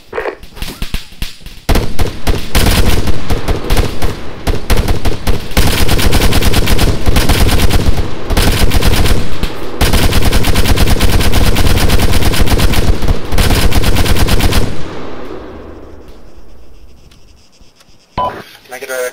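Sustained, dense gunfire from the Arma video game on the Chernarus map, rapid automatic bursts and loud shots running almost continuously for about thirteen seconds, then cutting off and fading into a lingering tail.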